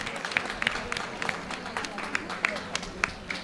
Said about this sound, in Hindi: एक बार डॉक्टर साहब के लिए सुंदर तालियां